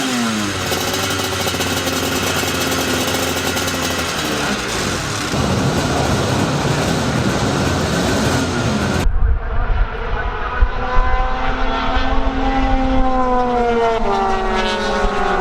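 Superkarts racing at Silverstone during a first heat, their engines a continuous loud roar with a rising and falling whine as karts pass, heard from a distant trackside spot, with a sharp shift in tone partway through.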